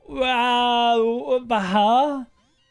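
Meowth's cry in a Pokémon game, a single synthesized creature call that warbles up and down over about two seconds, loud and clear and heard alone.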